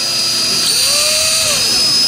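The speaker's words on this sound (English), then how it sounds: "We could do that because we're drilling in a soft metal." A power drill with no lubrication bores out a soft brass Welch plug on a motorcycle carburetor, giving a loud, steady high whine with a pitch that rises and falls slightly, close and continuous, without speech.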